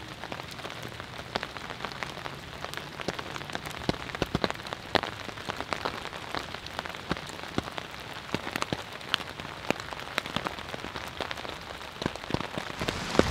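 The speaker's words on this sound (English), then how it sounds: "it is a rainy day here in North Carolina, and the Cloud 2 has been seeing rain since early this morning" Steady rain patters on a NatureHike Cloud Up 2 tent with a snow skirt on a wet day in North Carolina, with dense, even drops and many sharper taps close by.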